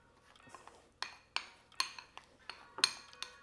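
Seasoning mixed into a stick of butter in a dish for lemon pepper baked chicken, a utensil clinking and scraping against the dish in a series of sharp, light taps, close and fairly quiet with no talking.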